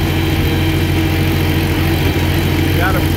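A 1945 Oliver 60 Row Crop tractor engine runs steadily near at hay-raking time, a loud continuous low rumble with regular firing throughout, no voices over it.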